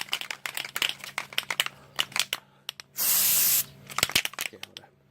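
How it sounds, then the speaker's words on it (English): Aerosol truck bed coating sprays onto an upper control arm dust cap in one steady, close hiss lasting under a second, set between clattering handling noises and crinkling sounds. "so let's spray this thing"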